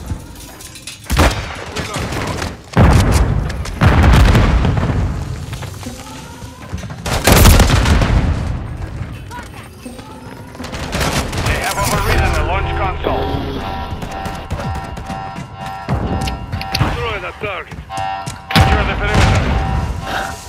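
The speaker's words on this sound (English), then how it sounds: "I'm taking fire!" Gunfire and heavy explosions in the Call of Duty: Modern Warfare III video game, loud booms and rapid volleys of shots in dense bursts, with a player talking over the battle.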